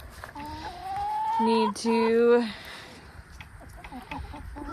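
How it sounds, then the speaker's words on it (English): Farmyard chickens, with a rooster among the flock, give a loud nearby drawn-out rising call followed by clucks, while a person speaks briefly. "So all the chickens are doing good."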